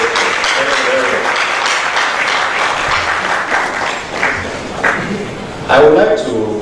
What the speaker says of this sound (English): Please, another round of applause for our president.